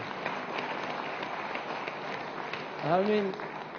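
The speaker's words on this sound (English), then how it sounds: "A big clap for all of you, actually." An audience at a lengthy lecture event claps in thanks, a steady, fairly soft wash of hand-clapping throughout, with a short voice rising over it near the end.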